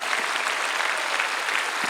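Congregation applauding at a Sunday church prayer service for peaceful reunification, a steady dense wash of many hands clapping that fills the short moment evenly and continuously.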